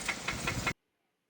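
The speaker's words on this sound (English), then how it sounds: "The engine was knocking loud as fuck." A car engine runs with a rapid, rhythmic knocking pulse for under a second, then cuts to silence.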